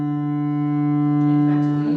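A sustained bowed fiddle drone holds one low note with steady harmonics, close and even, swelling slightly in its final half-second as the bow pressure shifts.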